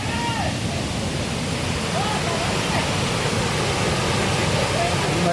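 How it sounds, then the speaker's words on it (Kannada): Waterfall beside the road on the Kollur ghat during a monsoon ride, a loud steady rushing roar of water that fills the whole scene with no break. "ಕೊಲ್ಲೂರು ಗಟ್ಟಿಲಿ ಬರ್ತಾ ಇದೊಂದು ಫಾಲ್ಸ್ ಚೆಂದ ಕಾಣಿಸುತ್ತೆ."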